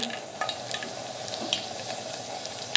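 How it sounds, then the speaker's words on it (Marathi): Cumin seeds sizzle in hot oil in a home kitchen, a steady faint crackle with a few sharper pops and clicks near the end, no voices. "आपल्याला यामध्ये तेल ॲड करायचं आहे तेलावर थोडं जिरे"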